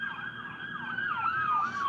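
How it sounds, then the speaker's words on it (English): An emergency siren from a fire engine or ambulance wails steadily, its pitch sweeping up and down as it approaches and passes, loud over low road rumble with no talking. "hang on, we got a fire and or ambulance coming."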